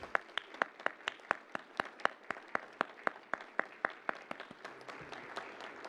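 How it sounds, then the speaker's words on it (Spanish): An audience claps for a woman activist as she is introduced at a human rights event, with sharp claps coming in a steady, fairly sparse rhythm that thin out into a softer patter near the end. "Un aplauso para ella, por favor."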